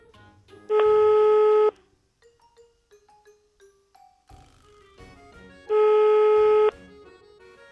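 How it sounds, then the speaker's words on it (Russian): A telephone call being placed: two long, loud steady ringback tones with a stretch of soft, scattered electronic beeps between them, close and with no voices. "Ну-ка я ему позвоню"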